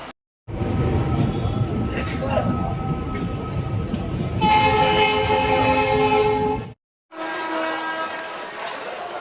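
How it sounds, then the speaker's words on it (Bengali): Passenger train pulling out of Howrah station, a steady loud rumble of the moving carriages with a horn-like tonal blast midway, a brief cut of silence, then the run continuing with bright tonal squeal. "ট্রেন ছেড়ে দিয়েছে হাওড়া স্টেশন থেকে"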